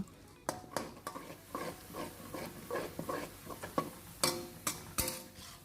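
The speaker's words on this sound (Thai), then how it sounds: "เราก็จะเจียวในส่วนของหอมแดงก่อน เจียวให้หอมเหลืองดีเลยค่ะ" Shallots fry in hot oil in a pan, a soft steady sizzle punctuated by frequent clicking taps and scrapes of a utensil stirring against the metal, fairly close and without talk.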